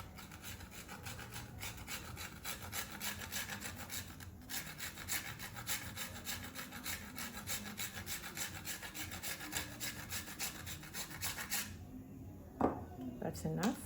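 Nutmeg grated by hand over a bowl for carrot cake batter, a steady rhythmic rasping and rubbing that runs nearly throughout, close and moderately loud, ending with a few clinks and handling sounds.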